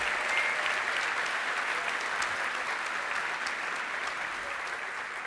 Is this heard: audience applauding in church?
yes